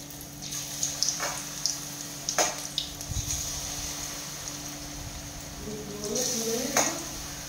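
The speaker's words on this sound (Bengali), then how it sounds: "এই যে আর কটা ভেজে নিচ্ছি" Pui shak leaf fritters fry in oil with a continuous soft sizzle. A spatula clinks against the pan now and then, and a voice comes in briefly near the end.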